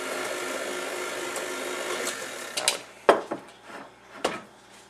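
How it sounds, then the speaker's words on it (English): An electric mixer on low speed blends honey-lemon cookie dough of creamed butter, honey mixture and dry ingredients, humming steadily before a few louder clunks and knocks near the end. "We want to mix our honey mixture and then our dry mixture alternatively into our creamed butter mixture."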